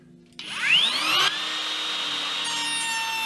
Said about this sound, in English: here I have the router with the bearing underneath. And now I can just come in here